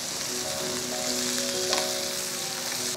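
Onion pieces fry in hot oil in a pan for peanut chutney, a steady, close crackling sizzle with a faint tonal hum beneath and a brief stir-like clink midway, no voices.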